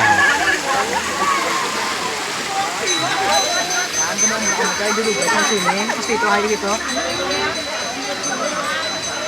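Cold spring water pours down from above at a mountain spring in San Enrique, Iloilo, a steady close splashing rush that fills the whole clip, with voices talking over it.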